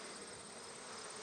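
Honey bees buzz steadily around a mating nuke hive, a dense, continuous drone of many wings, close and moderately faint, with no voices.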